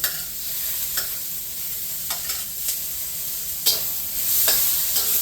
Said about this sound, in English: there's our garlic and our onions. Let's let them cook up a little bit.